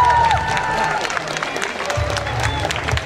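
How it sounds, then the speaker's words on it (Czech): Applause from a crowd with some cheering at a high school graduation ball sash ceremony, a steady wash of clapping that carries on throughout over faint tonal background sounds. "ještě jednou poprosím vás všechny o potlesk pro naprosto úžasnou třídu"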